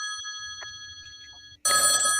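A telephone rings with steady electronic bell tones, then cuts to a louder, denser burst of ringing near the end; low murmuring sits faintly underneath.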